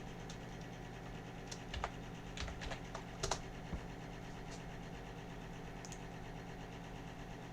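Faint computer keyboard typing comes in a short irregular burst of clicks over a low, steady background hum, then trails off into the hum alone.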